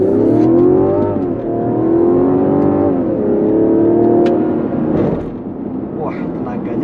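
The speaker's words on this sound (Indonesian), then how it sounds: "Kita coba, kita gas penuh ya." A Mazda CX-60 in sport mode accelerates at full throttle, a steady rising engine note holding loud and close throughout, with gear changes briefly dipping the pitch before it climbs again.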